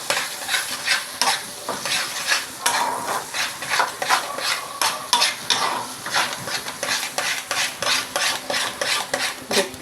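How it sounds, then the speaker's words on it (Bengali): Spiced food with salt and turmeric stirred in a sizzling pan, a spoon scraping and clattering in a steady, busy rhythm close by with a constant frying hiss underneath, no voices. "ভালো করে নেড়ে নিতে হবে।"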